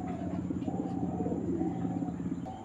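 Pigeons in a Bangladeshi pigeon-seller's loft coo steadily and softly over a constant low hum, their repeated throaty calls overlapping without pause.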